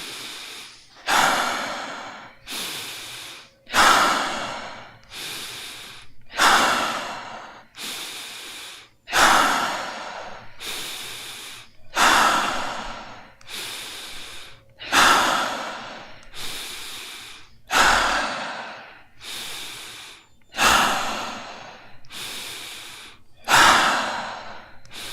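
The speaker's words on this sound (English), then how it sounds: "let's continue the tumo with stomach breathing, and we begin." A person does a stomach breathing exercise as part of tumo practice, taking about a dozen strong, rhythmic breaths close up, each a forceful inhale sliding into a hissing exhale, with no talking.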